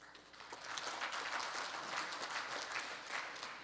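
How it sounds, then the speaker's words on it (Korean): Steady applause rises from an audience at the opening of a rally hall event, a dense wash of clapping sustained for several seconds without talk on top. "그럼 다시 한번 힘찬 박수로 시작해 보겠습니다"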